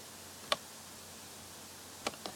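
A computer mouse button clicked repeatedly on a web page during an online token purchase attempt: three crisp, close clicks, one alone and then a quick pair about a second and a half later, over a faint steady room hum with no talking.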